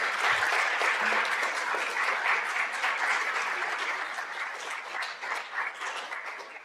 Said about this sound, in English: Let's give Dr. Christina Scott and Miss Adriana Heffley a round of applause again.